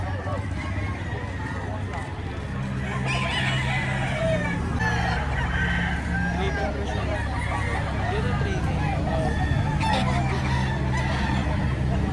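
A rooster crows amid a busy outdoor scene, with people talking nearby and other animal noises in the background.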